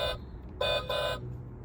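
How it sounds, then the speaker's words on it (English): Two short electronic beeps, evenly spaced, from the steering wheel buttons of a Dodge Challenger ride-on toy car, with faint background hum in between. "Both buttons beep when each one is activated."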